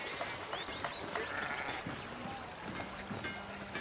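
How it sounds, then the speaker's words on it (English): Sheep bleating in the video game Pentiment, several wavering bleats scattered across a soft outdoor ambience, moderately distant and fairly quiet, with no talking. "The sound of sheep blaring in the background."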